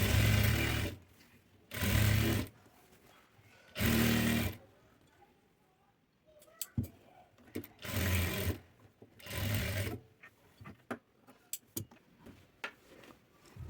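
A sewing machine runs an edge stitch along a dress slit in several short bursts of fast, loud whirring, with quiet pauses and small clicks between them.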